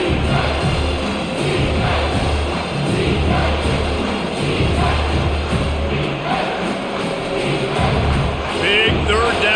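Stadium crowd noise in EA College Football 25 during an Akron at South Carolina game, a steady roar of cheering that runs throughout at moderate loudness, with a commentator's voice over it.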